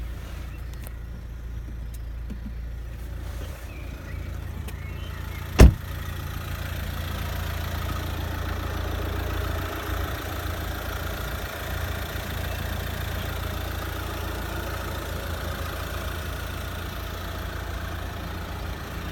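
A brand new car idles steadily just after start-up, a low, even engine hum running throughout with one sharp click near the start.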